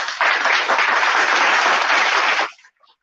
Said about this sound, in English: Live studio audience, give yourself a round of applause.